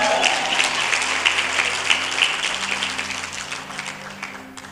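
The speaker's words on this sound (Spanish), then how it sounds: "Un fuerte aplauso" A church congregation applauds an evangelist during a service, dense sustained clapping from a large crowd that stays loud and slowly thins toward the end.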